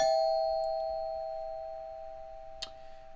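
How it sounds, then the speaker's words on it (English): A single doorbell chime rings out clearly and then fades slowly, its tone lingering, followed by a faint short click. "So this is just going to constantly play this doorbell sound"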